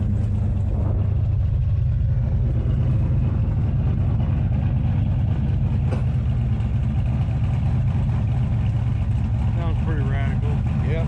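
A 1968 Hemi Charger R/T engine runs steadily with a deep, loud rumble close by, holding a constant idle through the whole stretch while people talk over it.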